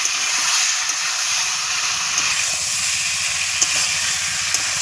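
Potatoes go into a pan of chicken curry, giving a steady close sizzle and hiss of frying that holds evenly from start to finish, with a few faint clinks and no talking.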